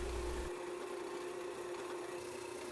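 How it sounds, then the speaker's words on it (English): A drill press bores holes for drawer pulls in the fronts of a dovetailed wooden tea chest drawer, giving a steady, close motor hum with a low rumble at the start and no talking. "And then I'll drill the holes for the pulls at the drill press."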